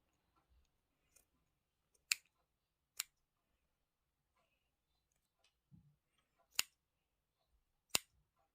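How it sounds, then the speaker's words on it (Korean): Scissors snip through the yarn loops at the bottom of a crocheted bag, giving four or five crisp, isolated cuts spaced a second or more apart, close but quiet, with faint handling noises between and no speech. "밑에 고리 부분을 가위로 이렇게 다 잘라주세요."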